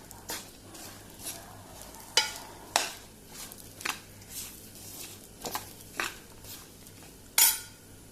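A spoon stirs turmeric into hot mushroom masala in a pan on a switched-off stove, a series of sharp scraping clicks and knocks against the pan with faint sizzling, close and fairly quiet.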